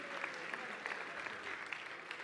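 A crowd at a Garmin Fenix 8 regional product launch applauds, a steady, even wash of many hands clapping with no voices over it.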